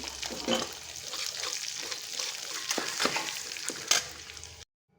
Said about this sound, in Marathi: त्याच्यामध्ये मी आता आवरी आणि लसूण बारीक केला आहे तो टाकणार आहे तो चांगला परतून घेणार आहे